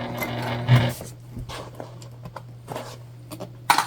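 Sewing machine stitching a bag, a close steady motor hum under short irregular taps and knocks of needle and fabric handling, moderately loud.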